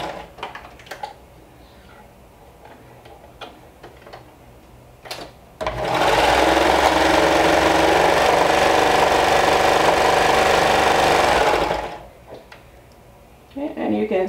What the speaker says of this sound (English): you're going to want to stitch that down with a 1/4 of an inch seam